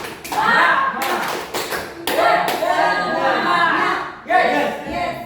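A school class performs a rhythmic spirit clap in bursts of patterned hand claps and taps, with children and a teacher's voices chanting and talking alongside.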